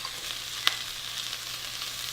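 Red cabbage and red onions sizzle steadily in a hot pan, about three cups of cabbage to one and a half of onion, a constant close frying hiss with one brief sharp crackle partway through.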